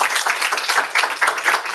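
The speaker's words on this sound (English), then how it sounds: "Give him a round of applause." Audience applause after a talk at a UX healthcare design event in London, a short burst of dense, close clapping from a room of people.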